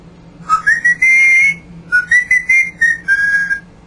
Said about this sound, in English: he likes to whistle when the Saints go marching